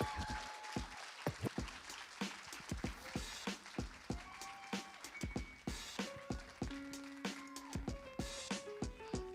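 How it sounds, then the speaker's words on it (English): Scattered, uneven hand claps from an audience at a fall teach-in welcoming a speaker, the individual claps distinct rather than merged, with a few voices and tonal sounds over the nine seconds. "So if we can give her a warm round of applause,"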